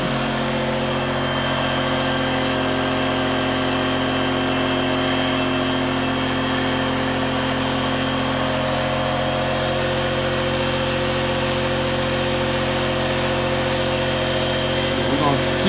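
Spray painting an SC300 body kit, a steady continuous hiss of the spray gun with a constant engine-like drone underneath, interrupted by short bursts and pauses, close and loud throughout.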